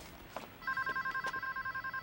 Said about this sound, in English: Oh, he's got a car phone.